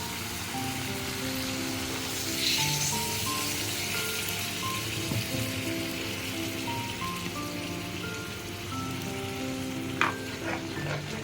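Sautéed potatoes seasoned with salt and sugar sizzle in a pan as a little water goes in for Bengali aloo posto, a steady crackling hiss with a brief louder burst and a couple of utensil clinks near the end.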